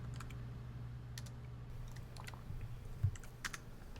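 Code typed on a computer keyboard, a quiet steady run of key clicks with a few louder taps over a low hum, no talk.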